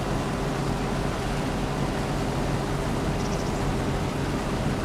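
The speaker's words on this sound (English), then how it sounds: "the tractor noise for me is very loud" Tractor engine in Farming Simulator 25 on the Riverbend Springs map, a loud, constant droning rumble with steady hiss, unchanging throughout and with no voices.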